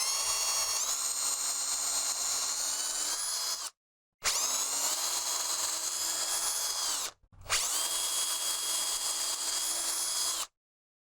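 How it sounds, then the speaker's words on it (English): A power drill whines loudly through three long bursts while drilling holes in hardwood, its pitch rising as each starts, with brief silent pauses between holes. "you'll see a little montage of me drilling 9 holes"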